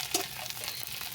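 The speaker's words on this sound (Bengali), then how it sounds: "আবার একটু নাড়াচাড়া করে দিয়ে দিলাম।" Spices fry in a pan as they are stirred, a soft close sizzle with a brief spatula scrape near the start, quiet and short, with no talking.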